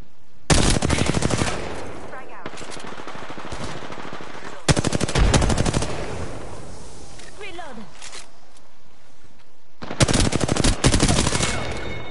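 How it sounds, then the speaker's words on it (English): Automatic gunfire from the video game Apex Legends comes in three loud, dense bursts, near and sustained. Quieter rattling and movement fill the gaps between them. "Listen up, I'm getting shot at."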